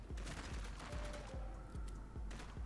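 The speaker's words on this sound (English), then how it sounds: "So it shoots like 3 bullets, semi-automatic." Rapid bursts of gunfire from a semi-automatic pistol in the video game Shot Gun Cop Man, firing in quick three-round volleys with sharp repeated cracks over a steady loud game backdrop, no talking.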